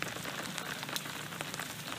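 Light rain falling in Houston beside a rainwater collection tank and vortex filter, a steady soft patter of drops on surfaces with occasional sharper ticks, even and close throughout.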